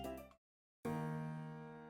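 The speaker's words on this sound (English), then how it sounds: "the bell rings not so long after, prompting all of us to make our way back to our homerooms" A school bell in a visual novel video game rings out as a bright, sustained chime after a brief silence, ringing clearly and slowly fading, with no talk.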